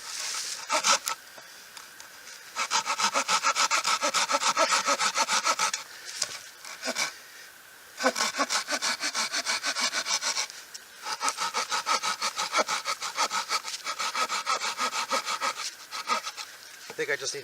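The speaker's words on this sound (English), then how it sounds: "I love this saw though. Nice and compact. You can't cut big with it" A compact hand saw works through oak outdoors, with rhythmic back-and-forth rasping strokes in several bursts separated by short pauses, fairly close and moderately loud.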